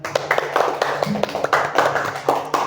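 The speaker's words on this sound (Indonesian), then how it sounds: "sekali lagi Miss Deza mau tepuk tangan untuk kita semua" A classroom of students clapping together, with sharp uneven claps scattered over a few seconds, moderately close and fairly light.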